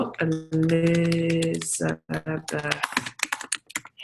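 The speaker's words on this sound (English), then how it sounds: "I just realized I can type in the chat box here too." Someone types on a computer keyboard into a chat box, quick scattered key clicks mixed in with a person talking, fairly close.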